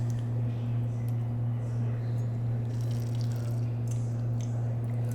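Armagnac poured from a bottle into a glass at a tasting, a soft continuous liquid trickle heard nearby beneath a steady low electrical hum in the room.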